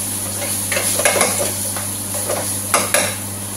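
Tomato and tomato puree go into a pan for tomato rice, then get stirred: a spoon scrapes and clinks against the pan over a low sizzle, with a few louder knocks.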